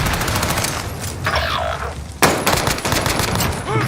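Rocket launcher fire in the Call of Duty Warzone Rebirth video game: a sudden loud blast lands partway through, amid a steady bed of distant gunfire and rumbling battle noise.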